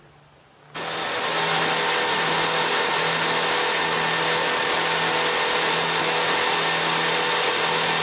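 After a brief quiet moment, a motorboat engine surges up to full throttle and holds a steady, high-powered drone with broadband rushing noise, among Cuban mangroves.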